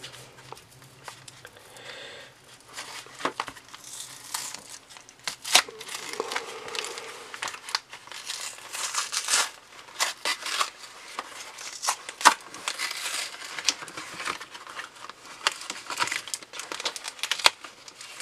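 A Pokemon Sun & Moon card pack is torn open, with close crinkling and crackling of foil wrapper and shuffling of cards in irregular bursts throughout, no speech heard.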